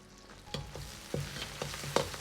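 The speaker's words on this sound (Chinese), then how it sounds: "油热后，下入控干水分的辣椒，煸炒出香味" Drained chili peppers stir-fried in hot lard and scallion oil in a wok, a soft continuous sizzle broken by about five sharp scraping stirs of the spatula at a steady, quick rhythm.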